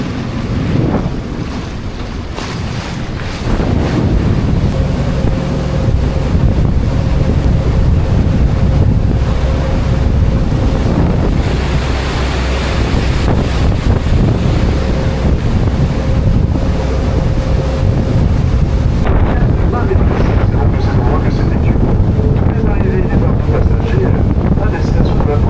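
Wind and sea waves buffet a boat out on choppy water, a loud continuous rush of wind noise with surging water throughout.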